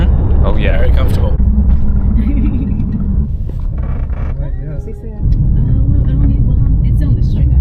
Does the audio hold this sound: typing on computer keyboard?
no